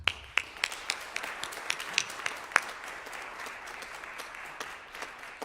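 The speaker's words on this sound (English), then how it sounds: "I like to have a round of applause for all of you as well" Audience applause at a piano duo lecture recital in a music faculty hall, a soft sustained patter of many hands with sharper individual claps standing out, fairly distant and fading slightly toward the end.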